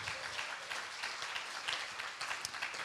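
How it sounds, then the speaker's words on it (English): Audience applause at an accessibility and ICT conference, steady dense clapping filling the hall throughout, fairly even in level with no talk over it. "also I invite you to make the round of applause for our distinguished colleagues"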